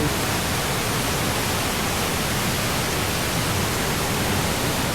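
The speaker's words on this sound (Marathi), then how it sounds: "तुम्ही बघू शकता पाण्याला खूप जास्त फोर्स आहे खूपच जास्त फोर्स आहे पाण्याला." The Satsada waterfall in Maharashtra, swollen with forceful water, gives a loud, steady, unbroken roar of rushing water that fills the whole clip.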